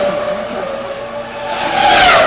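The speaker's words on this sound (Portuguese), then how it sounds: "Luciano Burti vai abrir a sua volta rápida" A Prost Formula 1 car begins a fast qualifying lap at Monaco in 2001, its high engine whine holding steady and then rising sharply into a loud, close scream near the end.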